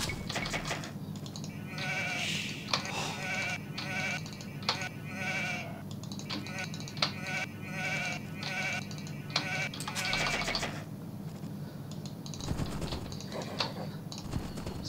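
Sheep in Age of Empires 2 bleat repeatedly in short bursts over a steady game soundscape, with sharp clicking interface taps scattered throughout.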